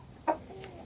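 A single short cluck from a backyard chicken, one of two recently moved from a chicken hospital, sounds once at moderate distance over faint background hum.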